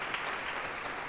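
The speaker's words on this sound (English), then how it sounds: "And the crowd happy, Mm-hmm. cheering for the local team" Steady applause and cheering from the crowd at a curling final in Champéry, a dense, continuous wash of clapping held at an even level throughout without breaks.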